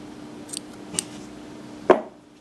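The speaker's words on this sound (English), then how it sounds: "And of course it is longer, and we will cut it." Scissors close once in a single crisp snip through crochet yarn, a short sharp cut near the end after a stretch of quiet handling noise, with no talking.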